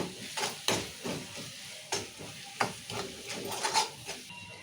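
Spiced potato curry with green chilli paste and salt being stirred in a pan, with a steady sizzle under repeated scraping strokes of a spoon against the metal, close and fairly loud, no voices.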